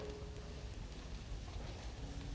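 Steady rain falls in a 1960s period television drama, a soft continuous hiss with no talk heard.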